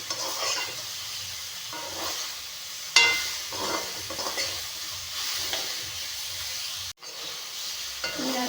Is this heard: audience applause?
no